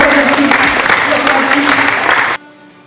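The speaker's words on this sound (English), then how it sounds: "Give them a round of applause." An audience gives a round of applause for a youth speaker's guests, a loud, dense wash of clapping from a crowd that carries on steadily and then cuts off abruptly near the end, leaving a faint hum.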